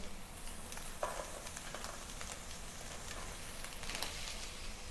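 Long beans and onion fry in a pan with meat, giving a soft, steady sizzle with a few light stirring scrapes; fairly quiet and close, no voices.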